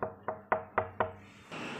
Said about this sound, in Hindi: मैंने देखा कि दरवाजे में कोई ठक ठक कर रहा है।